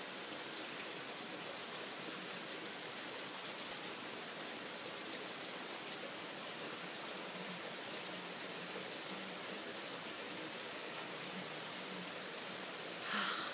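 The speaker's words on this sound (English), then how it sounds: "Yeah, it's raining early again." Steady rain falls on a noon downpour with flooding, a dense even hiss of drops on surfaces running without break, with one brief clatter near the end.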